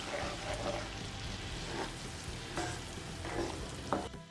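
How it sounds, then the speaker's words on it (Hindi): Fresh masala frying in butter with kasuri methi and cumin, a steady close sizzle with occasional stirring scrapes and spoon clinks against the pan. "अब हमने जो फ्रेश मसाला तैयार किया था वो हम डाल देंगे और अच्छे से मिला लेना है हमें।"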